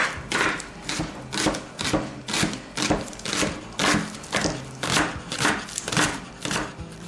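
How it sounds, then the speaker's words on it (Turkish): Rapid knife chopping of green onions on a board, steady rhythmic strokes repeating throughout, close and clear with no talking. "Şimdi sırayla taze soğanlarımızı doğrayalım incecik."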